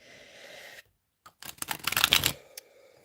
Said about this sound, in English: 3 shuffles for Aries then.